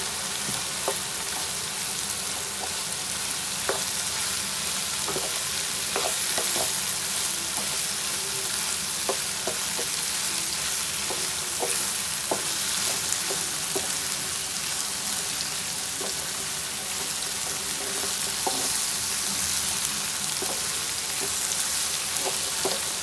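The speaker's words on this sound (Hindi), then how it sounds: "अब भिंडियाँ डाल देते हैं।" Okra frying in a roasted spice masala, Sindhi style, a continuous dense sizzle like light rain with scattered sharp crackles and stirring taps throughout, close and steady with no talking.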